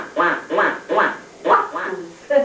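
A voice imitates ducks quacking on a farm pond, six rhythmic nasal quacks in quick succession, close and clear.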